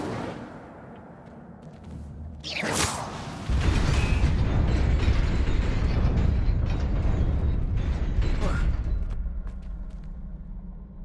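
A fiery Incendio spell bursts out in Hogwarts Legacy: a sharp whooshing flare, then a loud, sustained roaring crackle of flame that slowly fades over several seconds.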